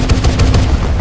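A Gatling gun fires in a multiplayer shooter, a dense, loud rapid-fire stream of booming shots pulsing evenly for about a second, close and overpowering with no pause.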